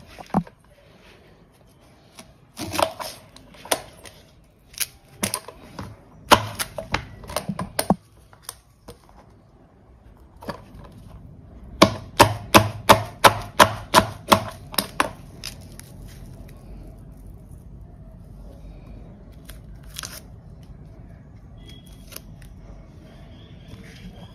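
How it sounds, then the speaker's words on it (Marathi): Onion and spring onion being finely chopped on a board, with quick runs of sharp, close knife taps in bursts and pauses, and a faint background hum. "कांदा बारीक चिरून घ्यायचा आणि पात पण बारीक चिरून घ्यायचा"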